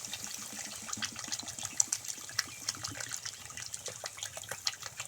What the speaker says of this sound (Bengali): এখন পরিমাণ মতো আমরা জল দিয়ে দেব।